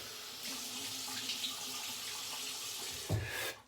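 Tap water runs steadily into a sink at low volume, a soft continuous hiss with a short louder splash near the end as the face is wetted before shaving.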